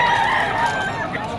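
A young rooster (stag) crows at the Malabon pet market, one loud close drawn-out crow over a busy background.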